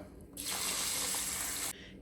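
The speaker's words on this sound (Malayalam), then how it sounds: "ഈ വെള്ളം ഇനി നമുക്ക് അരിയിലോട്ട് വെച്ച് കൊടുക്കാം" Hot water pours onto ponni rice set to soak, a close, steady gush lasting just over a second that starts and stops abruptly against a quiet background.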